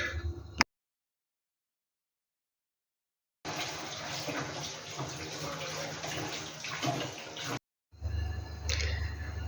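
Water pours steadily over fried lentils to soak them, a broad rushing splash running for about four seconds, stopping briefly, then resuming for a short final burst.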